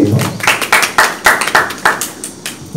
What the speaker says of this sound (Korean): 언제나 그랬듯 큰 박수 한번 부탁드릴게요